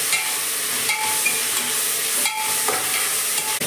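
Ingredients for chicken biryani stirred and frying in a pan, with a continuous close sizzle broken by a few scraping stirs of the spoon, no talking.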